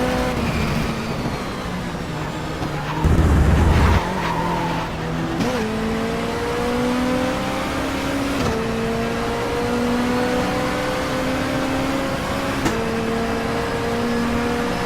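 A race car in the video game Race 07, its engine droning and rising through the gears with tyres squealing in skids, close and continuous, with a loud burst partway through.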